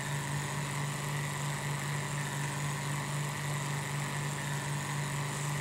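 A modded tractor engine in Farming Simulator 2013 drones at a steady idle, a constant low hum with a faint mid-range whine. It sounds close and unchanging throughout, with no talk over it.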